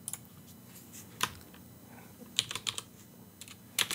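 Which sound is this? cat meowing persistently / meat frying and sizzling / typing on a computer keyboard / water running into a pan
typing on a computer keyboard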